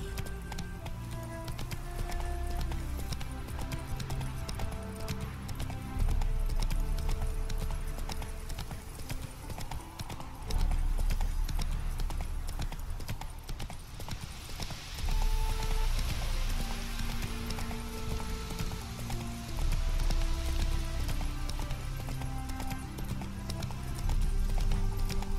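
Horse hooves galloping in The Witcher 3: Wild Hunt, Hearts of Stone expansion, a rapid, rhythmic clip-clop drumming that continues steadily for about 25 seconds with a faint breathy rush underneath.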